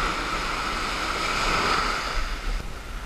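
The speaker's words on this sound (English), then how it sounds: "Surf is very clean and very, very calm." Calm, clean ocean surf on a New Jersey beach, a steady soft wash of small waves with light wind noise, moderately close and continuous without voices.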